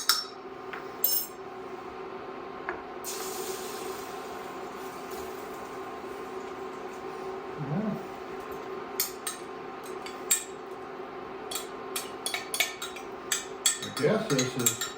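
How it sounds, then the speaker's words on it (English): Egg whites and oats go into a pan and get stirred, a steady low hum with scattered metallic clinks and scrapes of a utensil against the pan, more frequent toward the end. "Just dump it in the pan."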